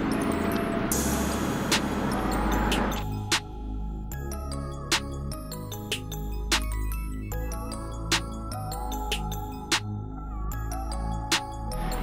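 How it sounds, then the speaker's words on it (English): A vehicle rolls past near a playground, its broad road noise rising and fading over the first few seconds. A quiet outdoor backdrop follows, broken by a series of short electronic beeps. "One vehicle."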